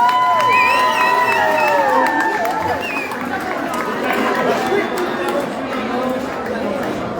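A crowd at a polka festival and convention hall cheers and whoops, with high shouts and whistles over lively chatter and some scattered clapping, loud and close throughout.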